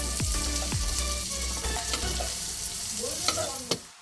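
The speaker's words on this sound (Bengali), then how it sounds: "এবার মাখনটার মধ্যে কটা রসুন থেতো করে ওর মধ্যে দিয়ে দিলাম।" Crushed garlic fries in melted butter in a pan, a steady close sizzle with a few stirring scrapes and clinks.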